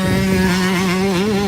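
A motocross bike ridden through muddy ruts during a training session, its engine buzzing steadily near and loud, the pitch wavering as the throttle is opened unevenly, with no voices.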